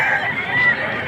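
Chickens at a poultry market in Padre Garcia, Batangas give a short burst of close, loud clucking and rooster-like calls, lasting about a second.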